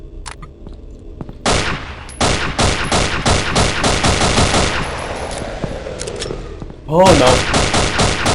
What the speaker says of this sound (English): So it's 9 shots with a P228.